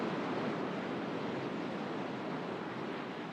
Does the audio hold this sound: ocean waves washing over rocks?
yes